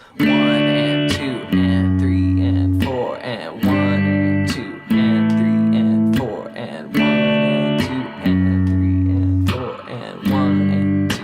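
Guitar chords for a song are strummed with a pick in a steady repeating progression, each chord ringing out in even bars while a voice counts the beat over the playing.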